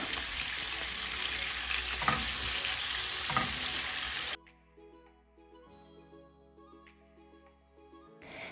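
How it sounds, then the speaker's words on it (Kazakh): Loud, steady sizzling of meat frying in hot oil in a pan for maqluba fills the first half, then cuts out, leaving quieter kitchen clinks and faint background sounds. "Тапамызға аздап май құйып, оны қыздырып, етімізді салып, қызарғанша 5-10 минут қуырамыз."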